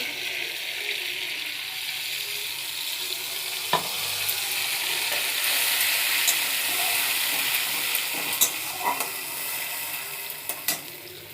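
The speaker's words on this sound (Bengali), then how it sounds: "সর্ষেতে একটু জল দিয়ে দিলাম দিয়ে জলটাও দিয়ে দেবো" Mustard paste sizzles steadily in a hot pan just after water is poured in, a dense continuous hiss with scattered pops and a few soft clinks, close and fairly loud with no talking.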